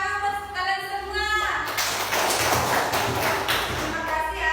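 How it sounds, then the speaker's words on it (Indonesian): A burst of clapping from children in an elementary school class breaks out after a voice, a dense patter of many hands lasting a few seconds. "tepuk tangan buat kalian semua"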